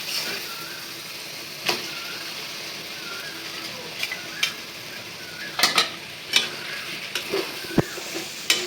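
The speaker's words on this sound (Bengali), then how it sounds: "মশলার সাথে মিশিয়ে ভালো করে আবার কষাই নেব" Meat frying with spices in a pan, with a steady sizzle beneath repeated scraping strokes of a spatula and sharp clinks against the metal that grow busier toward the end.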